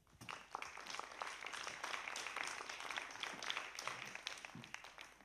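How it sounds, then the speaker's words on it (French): An audience at a panel discussion applauds the arriving guests, with dense, steady clapping from many hands that swells quickly and holds for several seconds, heard at a moderate distance in a hall. "On peut les applaudir."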